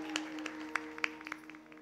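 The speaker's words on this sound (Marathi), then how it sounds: "त्यांच्यासाठी एकदा जोरदार टाळ्या" Scattered audience claps at a Krishna Janmashtami kirtan, faint and sparse, a few sharp hand claps rising over a steady low instrumental drone.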